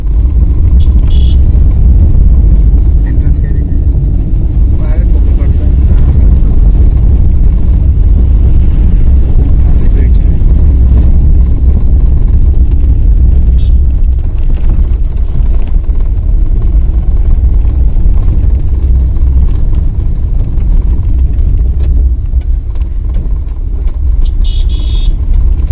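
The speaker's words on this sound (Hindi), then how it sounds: "बस हम यहाँ पे कार पार्क कर रहे हैं अच्छे से।" A car rumbles steadily from inside the cabin while being driven and parked in busy traffic near a temple, the dense low engine and road noise continuous and loud throughout, with faint outside sounds now and then.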